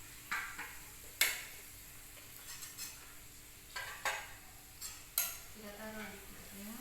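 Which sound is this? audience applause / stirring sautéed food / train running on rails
stirring sautéed food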